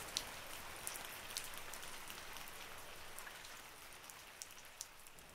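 Light rain falls steadily with soft, scattered drop ticks over a faint hiss, quiet and close, with no voices.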